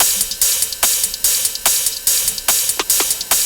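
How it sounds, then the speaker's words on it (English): Layered percussion loops play together in a steady groove, crisp hissy hits and shakers ticking over regular accented beats, loud and close. "all together those top loops sound like this during the drop"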